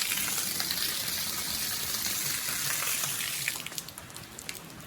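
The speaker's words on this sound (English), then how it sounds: "that's the back washing of the radiator. It's going into the bottom hose, coming out of the top hose" Water gushes steadily through a car radiator being backflushed from the bottom hose out the top hose, a continuous bright rushing hiss that softens and breaks up into splashes near the end.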